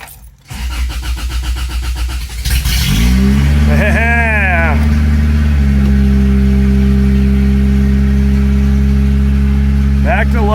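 A project car's engine, just out of winter storage, cranks briefly, catches, and revs up loudly before settling into a steady, rumbling idle that continues to the end.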